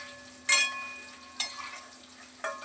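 Paneer cubes fry in hot oil in a pan until reddish, giving a soft steady sizzle punctuated by three brief scraping stirs, fairly faint and without talk.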